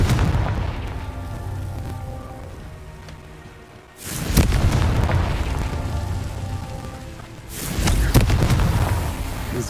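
Confringo fire spell blasts in the game Hogwarts Legacy, two sudden booming explosions a few seconds apart, each followed by a rumbling crackling tail, loud with no talking.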